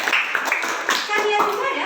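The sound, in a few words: students clapping hands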